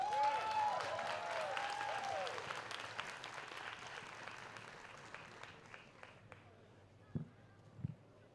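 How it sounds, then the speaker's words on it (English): An outdoor crowd at a Tacoma community celebration applauds the Modified Kung Fu Dragon and Lion Dance Association, a soft, distant wash of clapping that slowly fades, followed by a couple of dull thumps. "Let's give them a round of applause."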